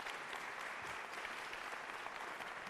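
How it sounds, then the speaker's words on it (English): A town hall audience claps in a steady round of applause, a uniform patter of many hands heard at a distance and fairly quiet, continuing evenly without pauses or voices. "he deserves a big round of applause for the great work he's doing"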